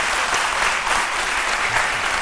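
Studio audience on an Easter midday TV show applauds a short lesson, a loud, continuous, dense burst of clapping with no talk over it.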